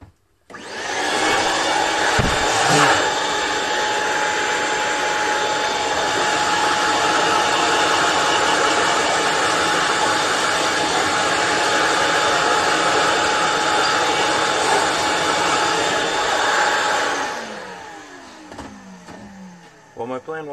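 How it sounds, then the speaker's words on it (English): A shop vac set to blower mode drones loudly and steadily for about sixteen seconds while blowing out a 1995 Jeep Cherokee XJ replacement cylinder head, then winds down near the end. "my plan was to vacuum that, but it was on blower"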